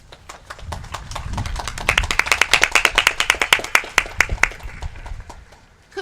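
An audience applauds middle school Teachers of the Year, starting with a few scattered claps that build into a denser, fairly close round of clapping and then taper off.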